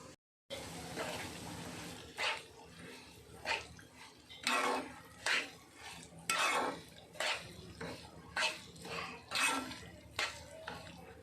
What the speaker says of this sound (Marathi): हा जो भांडं घेतलेला हा रवा आता थोडासा लालसर होईपर्यंत छान भाजून घ्यायचा आहे